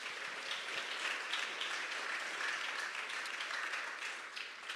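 Soft, steady applause from an audience at a school athletics awards ceremony, sounding somewhat distant and even throughout, with no voices over it.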